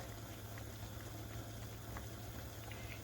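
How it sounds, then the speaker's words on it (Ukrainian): A pot of pear and lemon jam at a steady boil, giving a continuous dense bubbling and popping texture with occasional small louder pops, constant and close, with no talking. "І ось у нас втретє закипають наші грушки"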